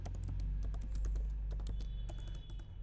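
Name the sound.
typing code on a computer keyboard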